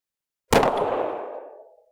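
A single suppressed gunshot firing S&B Tactical ammunition: a sharp, loud crack at the start followed by a ringing, slowly fading tail lasting over a second, heard alone.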